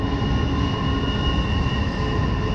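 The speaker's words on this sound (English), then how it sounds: "Big old train running by right behind me." A big train rumbles past close by beside a river near a highway, a steady, loud rolling roar of rail cars with faint wheel whine throughout, no talking.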